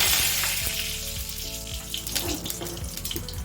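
Asafoetida and curry leaves fry in hot oil in a home kitchen while kadhi is being made, giving a steady close sizzle with a watery, tap-like hiss and a few soft clinks, with no speech.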